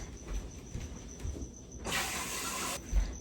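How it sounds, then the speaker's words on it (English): Kitchen tap water gushes steadily for about a second while garden lemons are washed under it, loud and close, surrounded by quieter handling noises before and after. "And then I have lemons here from the garden. Let me wash them first."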